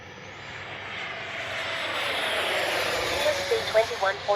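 An E-flite F-16 RC jet with a 70mm ducted fan flies overhead, its whooshing roar building steadily and staying loud, with talk coming in near the end.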